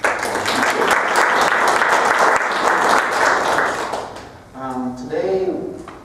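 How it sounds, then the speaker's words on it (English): Audience applause fills a hall at a talk on quantum intelligence technology, steady dense clapping for about four seconds before fading as a voice begins speaking over the tail. "give us a clapping hand"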